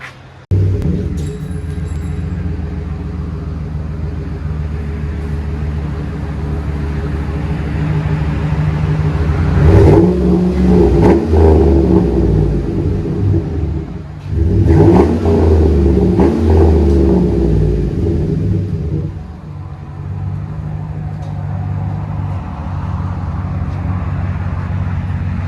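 Chevy Silverado with dual exhaust and Flowmaster 40 Series mufflers rumbles at idle, then revs in two deep throaty bursts before settling back to a low, loud burble close by.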